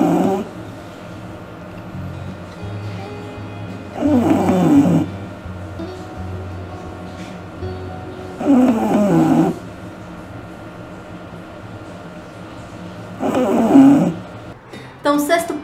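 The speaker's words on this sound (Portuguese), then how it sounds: "Bulldog ronca muito" Slow, rhythmic snoring from an English Bulldog, with three louder snorting breaths spaced several seconds apart over a steady low rumble.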